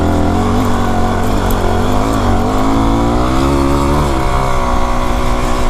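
A Yamaha WR250R dual-sport motorcycle rides a slippery dirt trail at Buzzard Lagoon, its engine droning loud and close with rising and falling revs as wind rushes over the mic.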